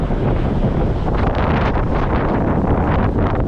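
A strong, constant wind roars loudly across the microphone on a European road as vehicles pass, a dense rushing noise that never lets up.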